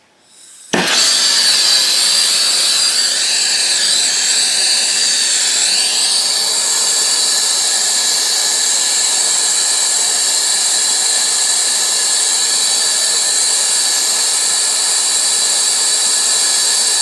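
An HVAC technician's torch heats a brazed joint. It ignites with a sharp pop, then holds a steady, loud, close roaring hiss that continues unbroken with no talking.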